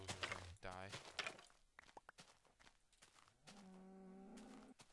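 A cow in the Minecraft video game lows a few times amid game footsteps and clatter, the moos fairly faint and mixed with other in-game sounds.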